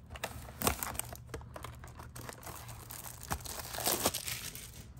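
Plastic wrap crinkles and tears as it comes off a Topps baseball card blaster box, a close, continuous rustling with sharper rips and crackles over a few seconds, with no talking.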